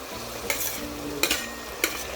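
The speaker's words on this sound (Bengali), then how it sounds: "ঠিক এই পর্যায়ে আরও একবার নাড়িয়ে চাড়িয়ে দিচ্ছি।" Malabar spinach and fried potato pieces are stirred in a sizzling pan: a steady frying hiss, with a few sharp utensil scrapes and clinks at intervals, close by and with no talking.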